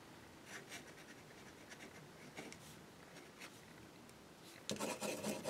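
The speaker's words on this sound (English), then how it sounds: "So I am going to write on the card." Multi pen with dark golden yellow ink scratching across a card, a faint, intermittent dry rubbing of strokes and pauses, close and quiet, ending in a brief louder burst of scratching.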